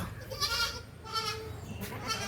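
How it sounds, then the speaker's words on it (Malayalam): A dairy goat bleats close by in three drawn-out, wavering calls with short pauses between them, clear and moderately loud with no speech. "നല്ലൊരു പാലാട് അടിപൊളി ഒരു പാലാട്"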